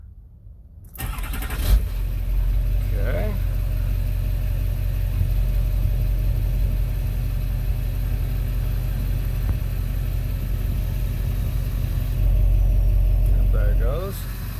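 A 2006 LBZ Duramax diesel pickup with a 4-inch MBRP straight-pipe exhaust cranks and fires up, then settles into a deep, loud, steady rumbling idle, with a short word spoken near the start.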